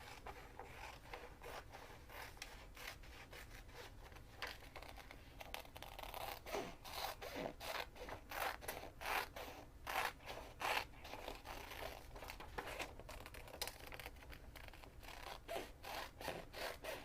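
Scissors snipping through a paper pattern for a composition notebook cover, following the outside of a thick printed line; close, steady rhythmic cuts with light paper rustle and rubbing, no voices.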